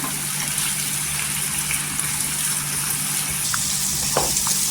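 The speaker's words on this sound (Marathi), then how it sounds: "इथे टोमॅटो पण छान असा आहे ना तेलावर परतून घ्यायचा." Tomatoes with salt sauté in hot oil in a kadai for a spicy dried bombil (Bombay duck) curry, giving a steady, moderate sizzle and bubbling hiss throughout, with a faint clink near the end.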